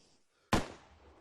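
A single sharp, loud rifle shot fired through the side of a tower in the military shooter Arma 3, with a short sudden crack and a fading tail.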